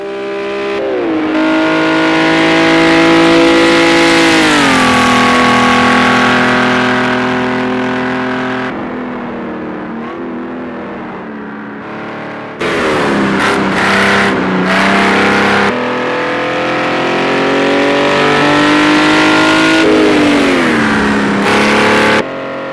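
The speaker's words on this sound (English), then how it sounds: "So the Aston Martin DBR1 at Monza Classic is the first of my fun car track combos in Project Cars 2" An Aston Martin DBR1 racing on the Monza Classic circuit in Project CARS 2, its engine loud and close as it revs up and down through the gears, with a short lull before climbing again.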